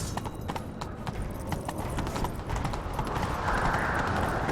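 Rapid hoofbeats of a galloping horse in a video game, a quick steady clip-clop that keeps going, with a rising whoosh of motion building toward the end.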